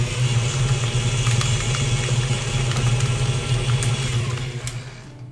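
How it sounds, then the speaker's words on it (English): An electric mixer on high whisks cheesecake ingredients with a loud, steady motor whir, then winds down briefly near the end. "Get these whisked up a little bit."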